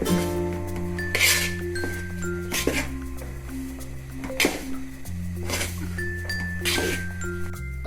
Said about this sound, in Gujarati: હવે આપણે આમ ચલાવતા જ રહેવાનું છે, છોડવાનું છે જ નહીં